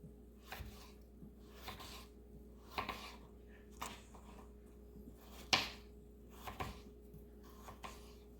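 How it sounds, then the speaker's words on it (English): A knife cuts a peeled potato into small cubes on a board, giving a series of soft, close, irregular chopping taps against quiet background. "After I peeled the potato, I'm going to cut it in small cubes."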